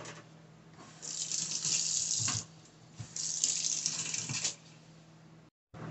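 Kitchen tap water runs in two steady bursts, each lasting about a second and a half, with a brief pause between them. It is close and fairly loud, with no talking, while preparing an egg wash for homemade Southwest bacon cheeseburgers.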